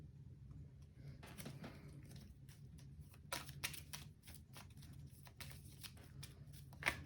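Cards from the Lord of the Rings card game are shuffled close up on a tabletop, quiet riffling and snapping bursts in irregular clusters over a low background hum.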